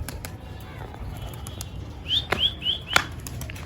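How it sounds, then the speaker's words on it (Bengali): A mother pigeon is released and takes off with a brief flurry of flapping wings, accompanied by a few short whistling notes over a quiet background. "এই মা পায়রাটাকে আগে উড়িয়ে দিই"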